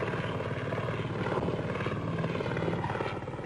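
Military helicopters in flight over the Rhodesian bush during the 1977 war, their steady rotor thump and engine drone loud and continuous throughout, with no talking.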